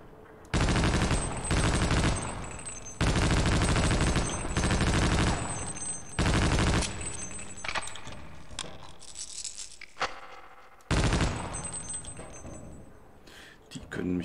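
Rifle fire in Half-Life: Opposing Force: loud, close bursts of rapid automatic shots come in blocks with short gaps, followed by quieter clattering and scattered single shots.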